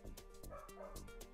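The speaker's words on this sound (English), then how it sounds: "Shut the fuck up, dog, please." A dog barks and yips in a quick, steady run of short calls at moderate distance, filling the brief moment alone with no talk over it.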